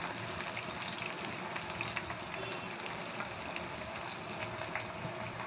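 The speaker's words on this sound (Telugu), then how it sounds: "మీడియం ఫ్లేమ్లో పెట్టుకొని చక్కగా గోల్డెన్ కలర్ వచ్చేంత వరకు ఫ్రై చేసుకోవాలి" Cheese balls deep frying in oil over a medium flame, a steady dense sizzle and bubbling hiss that carries on evenly throughout with no talk.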